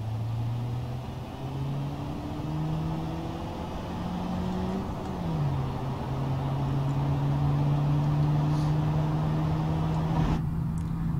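A new van in the BeamNG video game, engine humming and revving steadily with the pitch climbing, dropping briefly, then holding high, loud and continuous with no talk.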